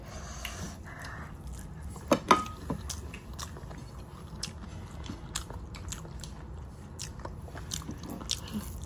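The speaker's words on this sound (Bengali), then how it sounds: "তো আমি একটু খাই।" Close-up chewing and biting of taro leaves cooked with hilsa fish head, a few crunchy bites around the two-second mark, then soft, steady mastication over quiet room noise.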